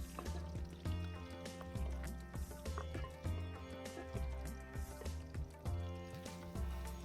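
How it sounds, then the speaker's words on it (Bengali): Chopped onions dropped into hot ghee and oil with whole garam masala in a pan for lamb kurma, giving a soft steady sizzle and crackle with light clinks of utensils, fairly quiet and close, no voices. "পেঁয়াজ কাটাগুলো দিয়ে দিলাম।"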